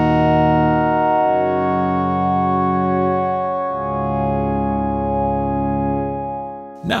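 A soloed synth layer with its Harmonia effect switched off plays a plain, bright sustained tone stepping through three held bass notes, dry and steady before fading near the end with a brief click, with no voices.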